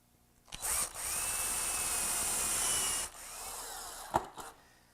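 A power drill drives a 1 1/4 inch screw into a 2x4 wooden frame with a single whirring run of about two and a half seconds, followed by a brief softer spin and a click, close and alone.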